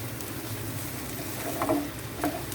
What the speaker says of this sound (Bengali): ডিমগুলো দিয়ে দিলাম, এখন এগুলো সুন্দর করে এভাবে নাড়বে।